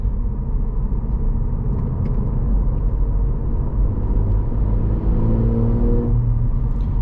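The twin-turbo V6 of a 2024 Cadillac CT4-V Blackwing with 6-speed manual drones steadily from inside the cabin while cornering at speed, a deep continuous rumble with a slight rise in pitch late on.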